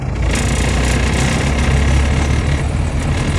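A car engine with a faulty carburettor runs close by as a steady, throbbing rumble, its pitch and loudness holding fairly even with a slight lift as the throttle is pressed, no talk over it.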